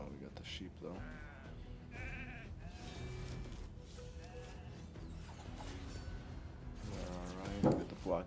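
Sheep bleating in the Raid Shadow Legends game, several wavering bleats over busy game effects and clashes, with a louder bleat near the end while someone talks over the action.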